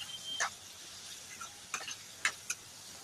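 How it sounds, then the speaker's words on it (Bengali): Ground cumin, chilli and turmeric sautéing in oil in a pan, a soft steady sizzle with a few faint scraping stirs and light ticks, quiet and close with no talking. "তারপর মশলাটাকে ভালো করে কষিয়ে নেব।"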